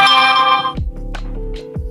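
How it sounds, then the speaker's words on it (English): A phone's notification tone chimes in a short run of bright, bell-like pings, loud and close, with a few soft knocks between them and nobody speaking. "Notification. I won't check that right now."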